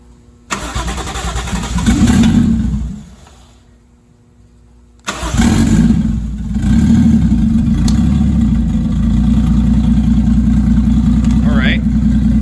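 A Mercedes 380SL with a swapped 1JZ engine cranks for a couple of seconds and stops. After a short pause it fires up loudly and settles into a steady rumbling idle, with voices talking nearby.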